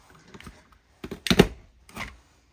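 A scallop-edge paper punch cuts through lightweight paper, giving a few quick clicks and one sharp crunching snap, close and alone.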